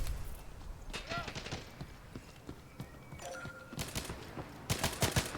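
Rapid bursts of gunfire from the video game Hired Ops crackle in short volleys, with a louder cluster of shots at the end and faint chatter underneath.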